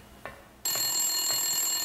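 A telephone in the Silent Hill video game bursts into a continuous, shrill electronic ring that starts abruptly after a few faint taps and keeps going loud and steady.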